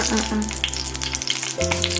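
Mustard and fenugreek seeds crackle and splutter in hot oil, a dense continuous frying sizzle with steady crackles throughout, loud and close, with a low hum shifting partway through and no talking.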